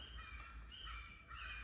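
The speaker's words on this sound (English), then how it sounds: "The birds are going crazy." Crows cawing outdoors, a few faint harsh calls drifting in over steady background noise.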